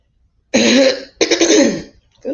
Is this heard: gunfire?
no